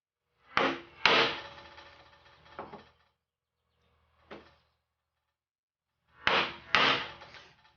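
A chisel chops a mortise in a piece of wood, loud close mallet strikes landing in pairs, followed by a short scraping and a single lighter knock, then another pair of heavy blows.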